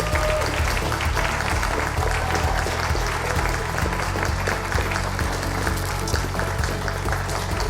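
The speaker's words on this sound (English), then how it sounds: "can we have a round of applause" An awards-ceremony audience applauds a winner at a learning disabilities and autism leaders' event, sustained, full clapping from a large crowd, loud and even throughout with no speech over it.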